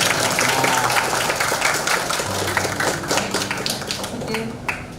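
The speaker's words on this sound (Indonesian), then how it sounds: "Tepuk tangan dulu semua." A group of people clapping together during a visit to a school classroom, brisk and continuous for about five seconds with a few hard taps and some voices mixed in.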